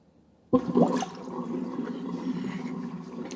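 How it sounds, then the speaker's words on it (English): Water draining out of a Galaxy 2150 vacuum cleaner, a sudden gush that starts abruptly and then settles into a steady, close trickling flow. "So now let's just drain this water out."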